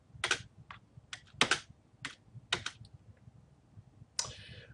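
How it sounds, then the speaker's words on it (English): A computer keyboard is pressed in a series of sharp, close clicks, several isolated keystrokes with short gaps between them in a quiet room, and no talking. "Another way is to press your space bar on your keyboard"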